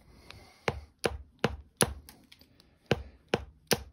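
White glass being flintknapped into a knife blank: seven sharp, clicking strikes land at an uneven pace, each a crisp crack with a brief ring. The strikes are close and loud against a quiet background.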